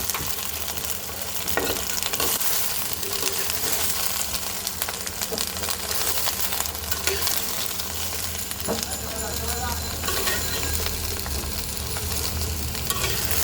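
Mixed vegetables including peas, potato and eggplant lightly fry and get stirred in a pan, giving a dense, continuous sizzle and scraping that runs throughout, with voices talking underneath.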